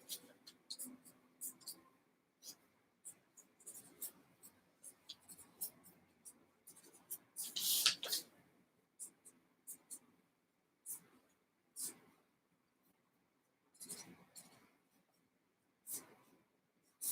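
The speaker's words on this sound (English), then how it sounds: "I'm going to draw a circuit right now" Pen strokes of a circuit diagram being drawn by hand, a steady run of short scratchy marks with a few louder bursts near the middle and at the end, close and quiet with no one speaking.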